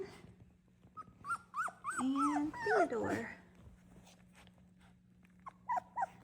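Small doodle puppies in a litter whimper and yip in high, wavering cries, clustered in the first half and returning briefly near the end, with a quiet voice speaking nearby.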